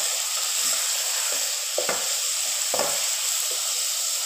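Ground beef keema fries with medium-cut ginger in a skillet, giving a steady, close sizzle broken by a few brief scrapes and clinks as it is stirred, with no talking.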